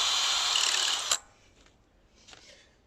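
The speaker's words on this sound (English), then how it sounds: "Drill through the existing holes." A power drill whines steadily as it bores through a plastic car number plate, then stops abruptly, followed by faint clicks and a brief second burst, close up with no talk.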